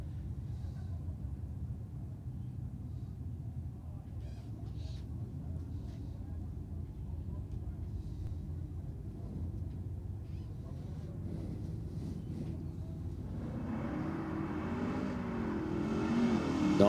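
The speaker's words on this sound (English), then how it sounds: "Nice launch from the Falcon. Going pretty cleanly down there." Ford Falcon and Audi cars launching at a Sydney drag strip competition night, a steady low engine rumble that swells into loud revving acceleration near the end, with a commentator talking over it.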